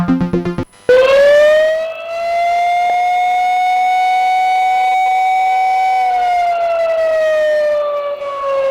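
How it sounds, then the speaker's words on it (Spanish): A loud electronic alarm siren on a radio show starts after a brief musical jingle, holding one steady wailing tone for several seconds before it slowly falls in pitch, with no one talking over it. "La alarma indica en estos momentos que ahora le toca la participación al pueblo"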